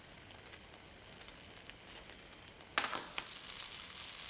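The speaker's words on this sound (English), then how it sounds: "I'm adding a little bit of butter to the pan" Butter hits a hot pan and starts to sizzle, a quiet crackling hiss that jumps suddenly louder partway through and keeps spitting with small pops.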